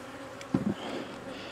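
A brief low buzz of honey bees at a hive rises and fades, fairly quiet and close, over a faint background hum.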